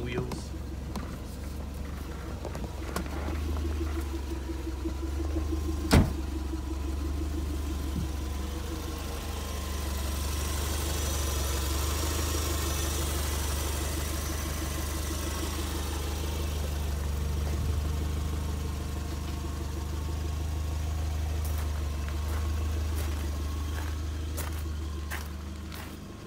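A 1991 Toyota MR2 engine idling cold gives a steady low drone with a faint higher whine that holds evenly throughout, broken by one sharp click early on.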